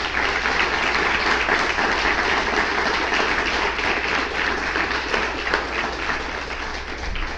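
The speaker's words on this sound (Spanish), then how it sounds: "¿Por qué no les damos otro aplauso a los hermanos?" A church congregation gives a sustained, steady round of applause for fellow members, dense and even throughout with no speech over it.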